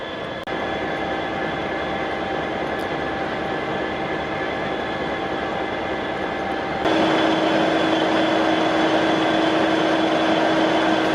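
LNER A4 steam locomotive 60007 Sir Nigel Gresley passes at Lockerbie or Carlisle, a loud, steady rolling rumble with a sustained tonal whine that swells sharply louder about two-thirds of the way through, no voices present.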